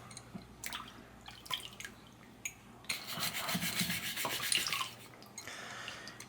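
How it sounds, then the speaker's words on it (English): A brush scrubs black rust residue off a metal wrench after an Evapo-Rust soak, giving close, quiet rasping strokes in short bursts, with one longer vigorous scrub midway and wet dripping between. "There's a little bit of black stuff on there. Brush it off a little bit."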